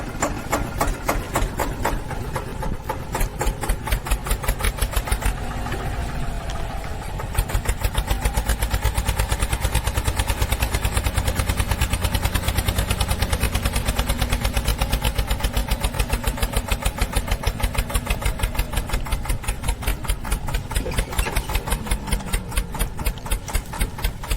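A mini tractor engine runs steadily on the way to a garden, with a rapid close mechanical chugging that rises slightly in force partway through and no voices.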